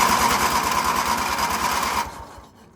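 A car engine's starter cranks over, energized through a jumper wire, giving a steady, fast, pulsing churn for about two seconds before it cuts off into a quieter tail.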